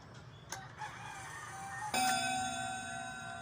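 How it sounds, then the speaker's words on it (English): A single chime from a pendulum clock striking the hour, one clear bell stroke ringing out and slowly decaying, with a faint lighter ting just before it and no voices. "As you can see, it is 4 o'clock, but it bells only 1."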